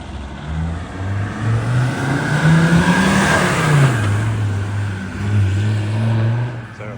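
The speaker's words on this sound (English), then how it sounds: "So it will do a little bit of a wheel hop type burnout." A performance-built 1998 Land Rover Defender 90 Td5 revving hard close by, engine note rising and falling as it accelerates through a wheel hop burnout, loud and continuous.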